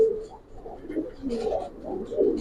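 Old-breed military pigeons coo softly and close by, a few low, rolling, throaty calls that rise and fall in a short burst.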